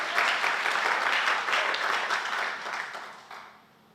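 Church congregation applauding during a Sunday worship service, a dense, steady wash of many hands clapping that holds for several seconds and then fades out.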